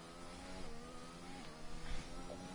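A simulated race car engine in Live for Speed at a Canadian Grand Prix event, spinning its wheels in fourth gear on light throttle, drones steadily with a buzzy, slightly wavering note and no talking.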